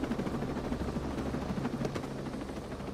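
A helicopter in Ghost Recon Breakpoint drones steadily with a low, continuous rotor rumble, close and unbroken for the whole stretch, with faint crackles on top and no talking.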